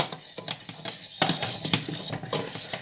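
A spare whisk beats crêpe batter in a pan over lowered heat, giving quick irregular metallic scrapes and clinks against the pan that build up in intensity, close and alone.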